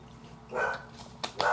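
A dog barks indoors at home, giving two short, fairly close barks in quick succession.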